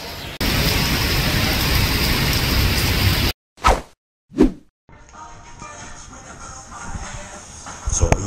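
Steady heavy rain pours down in Singapore as a loud, dense wash of noise, cutting off abruptly partway through, followed by a couple of brief thumps and then quieter, more distant rainfall with faint street ambience.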